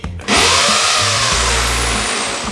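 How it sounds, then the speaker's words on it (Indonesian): A power drill boring into a wall to mount shelf supports, starting abruptly and whining steadily at close range for a couple of seconds with a slowly falling pitch, loud and without talk. "aku dibantuin sama mama papaku untuk ngukur dan ngebor rak dinding yang aku beli"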